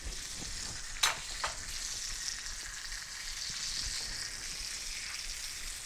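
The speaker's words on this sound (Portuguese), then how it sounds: "Vou passar o meu salmão pela frigideira. Vou começar a regar novamente a nossa manteiga." Salmon sizzles in a frying pan as butter is spooned over it, a steady close crackle with a couple of sharp clinks from the spoon early on.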